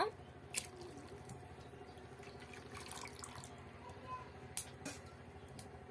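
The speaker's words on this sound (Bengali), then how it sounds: "চালগুলো ধুয়ে নেব একটু পোলাউর চাল ভালো করে ধুয়ে নিয়ে" Basmati-style pulao rice grains being rinsed in water at a kitchen sink, with a running tap, soft sloshing and a few sharp splashes or drips, fairly quiet throughout.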